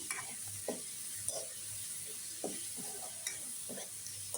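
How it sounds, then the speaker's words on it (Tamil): Brinjal sautés in oil in a pan with onion and tomato for a field-bean kuzhambu, giving a soft continuous sizzle broken by regular scraping and stirring clicks from a spatula, fairly quiet and close, with no talk. "இந்த கத்திரிக்காயும் போட்டு நல்லா வதக்கி விட்டு நல்லா அந்த எண்ணெயிலே வதக்கிறப்ப"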